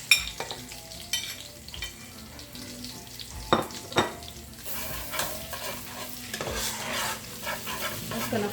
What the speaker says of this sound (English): my oil is hot and I'm going in with my onion and garlic